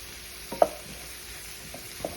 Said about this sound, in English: I've been frying this for maybe 2 to 3 minutes